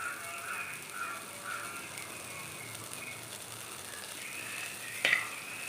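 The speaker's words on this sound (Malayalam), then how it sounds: "ചട്ടി അടുപ്പത്ത് ചൂടാകുമ്പോൾ ബട്ടർ ഇട്ട് കൊടുക്കുക" Butter melting in a hot pan on the stove gives a steady, soft sizzle and hiss throughout, with one brief sharper crackle near the end and no voices.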